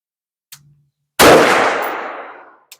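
One sharp, loud rifle shot fired through a sideways muzzle brake at a law enforcement range cracks out and decays over about a second, with faint clicks before and after.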